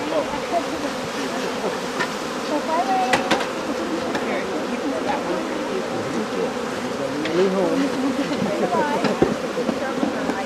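Honeybees buzz around the entrance of a hive during an outdoor hive-splitting session, a continuous droning hum with occasional clicks and knocks while people talk nearby.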